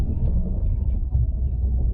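A Fiat Panda 4x4 works across rough farm ground, dropping into a tractor ditch and climbing out, heard as a steady low engine rumble up close with no voices.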